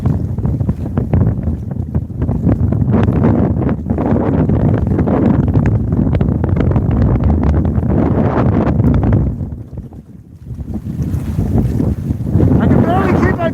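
Strong wind buffets the microphone on a cold fishing trip by boat, a loud continuous roar with brief lulls around ten seconds, steady and close throughout.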